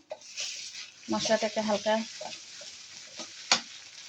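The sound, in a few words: onion with ginger and cumin paste frying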